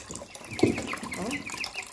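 Young chicks, about sixteen days old, cluck and cheep briefly while warm water is poured for them, the pouring trickle mixed with a few soft close peeps.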